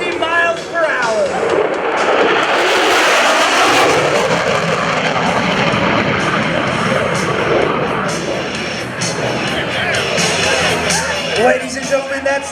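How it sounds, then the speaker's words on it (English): An F-16CJ Fighting Falcon makes a loud, fast low-level pass at an air show, its roaring jet noise filling the whole stretch as an announcer speaks over it. "As he passes Show Center, he'll be traveling just under the speed of sound at 650 miles per hour."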